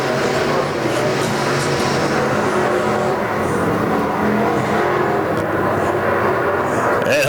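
IMCA Sport Mod race cars roar steadily out of turn 4 at Arizona Speedway, a dense continuous engine drone from the field with a faint announcer voice underneath.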